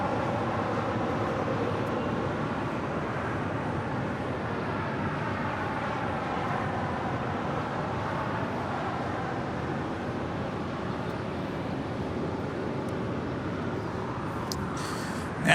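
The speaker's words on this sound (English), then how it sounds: "arriving here on the south side, American Airlines Flight 2008 coming in from Philadelphia in this A321neo" An American Airlines A321neo jet arriving at LAX, a steady broad roar of engine and rushing air sustained throughout at moderate distance.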